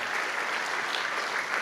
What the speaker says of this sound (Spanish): Vamos, denle un aplauso al Señor, nuestro Dios todopoderoso.